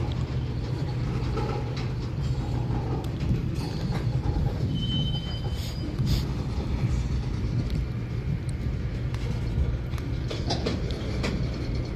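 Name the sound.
train with locomotives struggling uphill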